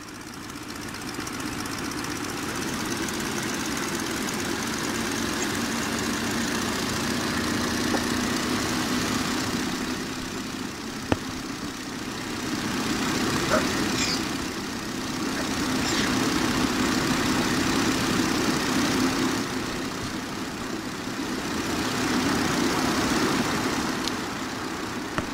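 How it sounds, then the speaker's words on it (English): A SPAD S.XIII biplane engine warms up with its radiator closed in the Rise of Flight game, a continuous low rumbling idle that rises and falls gently in slow waves across the whole stretch, with no voices. "I kept the radiator closed to warm the engine up"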